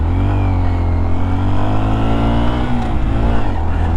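New motorcycle pulling hard through the gears with a quick shifter, a dense, loud engine roar with stacked harmonics rising then briefly breaking at a shift, close and continuous.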